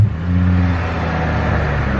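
A five-cylinder car engine catches and settles into a running idle after a new clutch install, a low steady hum with a brief rising tone at the start, heard up close.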